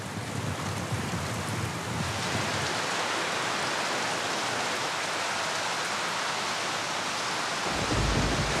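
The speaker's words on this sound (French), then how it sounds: "C'est comme ça quand il pleut, ça coule à l'intérieur." Heavy rain pours during a storm and leaks into a house, a dense, loud, steady roar of falling water and splashing, with a deep rumble at the start.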